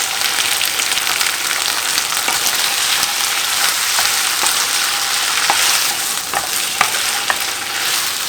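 A vegetable stir fry with chili sauce, soy sauce and ketchup sizzles steadily in a pan, a dense loud hiss with scattered pops and small clinks of stirring, close up and without talk.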